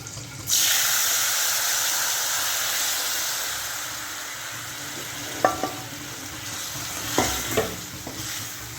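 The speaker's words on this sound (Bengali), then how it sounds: "তো এবার সাঁতলাবো।" Spices, ginger and tomato with salt and turmeric hit hot oil in a pan, a loud sudden sizzle that settles into a steady hiss, with a few spoon clinks and stirring scrapes.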